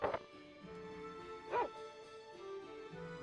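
A dog barks in the Tales of Phantasia video game, three short, clipped game-sound barks spaced about a second apart over a steady musical background.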